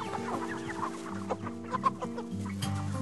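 Free-range chickens on a farm cluck and chatter continuously in a busy flock, several birds overlapping at close range with no talking.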